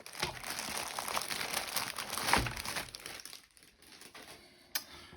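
Packaging of a keyboard box being opened: close, loud crinkling and rustling of plastic and cardboard that fades into softer handling, ending with a single sharp tap, with no voices.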